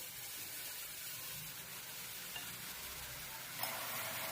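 Steady hiss and sizzle of spinach cooking in a hot wok on a gas stove, continuous and close, with a brief clink near the end.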